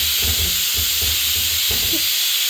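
A pressure cooker's steady, broad hiss of escaping steam fills the clip, with low rumbling thumps underneath and no talking.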